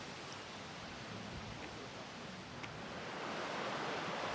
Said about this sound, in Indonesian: mendengar suara sungai